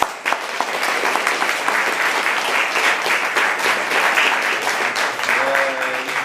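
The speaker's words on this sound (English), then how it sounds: "So I would like to make an applause to our team." Sustained applause for a team at an event in Estonia, steady dense clapping throughout with no pauses, fairly loud and close.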